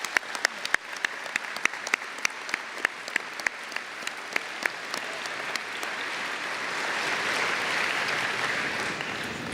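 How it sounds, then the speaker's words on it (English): A graduation ceremony audience at a high school applauds its teachers, sharp claps beginning sparse and distinct, then swelling into a dense, sustained wash of applause that grows louder toward the end. "let's give our teachers a round of applause."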